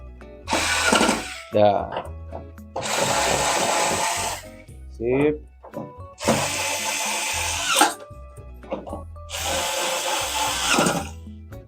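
An electric screwdriver drives screws into an LG 32LH510D TV during an LED backlight replacement. It comes in four loud whirring bursts separated by short pauses, with someone speaking in between.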